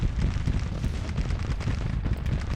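Artillery in the video game Grand Tactician: The Civil War fires in a dense, continuous rumble of booms and cracks with no pauses. The sound is loud and heavy throughout.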